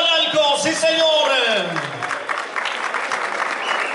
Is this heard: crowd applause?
yes